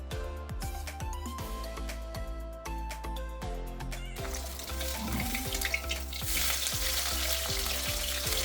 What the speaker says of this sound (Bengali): এরপর মাছগুলো দিয়ে তেলে ভেজে নেব।